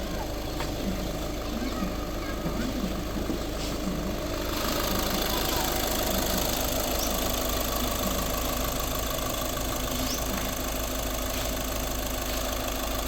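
A 2015 Volkswagen Vento Highline diesel with automatic transmission idling, a steady even engine drone with faint rhythmic knock, heard close and continuous throughout.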